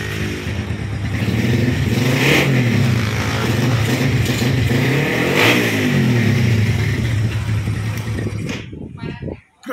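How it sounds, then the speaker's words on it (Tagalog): An upgraded LS135 motorcycle engine fitted with an NS160 FI transmission and NS150 cylinder block revs loudly and close up, rising and falling in two strong surges before cutting off near the end. "Grabe kalakas makina nito."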